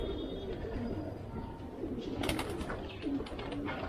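Caged pigeons bathing and walking in a water tray give soft, low cooing calls over a steady background hiss, with faint splashing and flutter bursts near the end.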